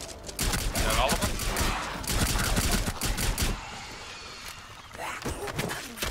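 Bursts of gunfire in the Rainbow Six Siege Outbreak video game, rapid loud shots in several clusters separated by brief lulls, with player voices heard between the volleys.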